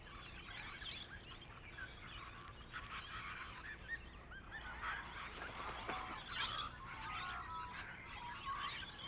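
A colorful flock of cockatoos, parakeets, rosellas and lorikeets feeds on gum nuts and berries in an open Australian forest canopy, giving a faint, steady chatter of squawks and calls at a distance.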